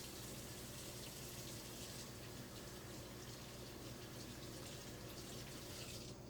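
Tap water runs steadily into a kitchen sink during washing up, a continuous, even, faint rushing flow without pauses or voices.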